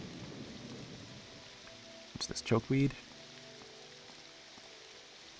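Rain patters steadily during a thunderstorm in the video game The Elder Scrolls III: Morrowind, a faint, even hiss of rainfall under a brief stretch of talking near the middle.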